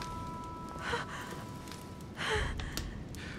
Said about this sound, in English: Her breathing is becoming stable and...